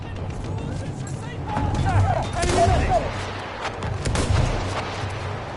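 Artillery strikes in a competitive online shooter match: several deep booming blasts and crackling impacts arrive in uneven bursts, rising and falling over a few seconds amid faint game background noise.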